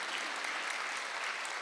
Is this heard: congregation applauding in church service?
yes